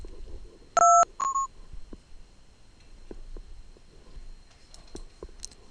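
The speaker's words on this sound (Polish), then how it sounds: "wciskając klawisz 2 na klawiaturze" Telephone keypad DTMF tones from a phone running the Cinephone app: two short, loud dual-tone beeps in quick succession near the start, followed by faint clicks and low background noise.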